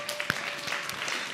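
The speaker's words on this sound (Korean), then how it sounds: "서로 박수." Children in a church clap for each other in a short, scattered burst of light applause, a few sharp claps standing out before fading.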